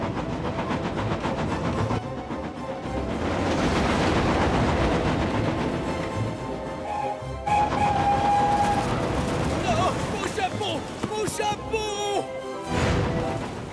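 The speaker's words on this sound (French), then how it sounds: "Spencer roule tellement à fond les wagons pour essayer de gagner un peu de temps et d'arriver en avance" Cartoon steam engine speeding along rails pulling wagons, with a loud, continuous rolling rumble, hissing and clatter, plus music and sound effects; a short whistle-like tone rises midway.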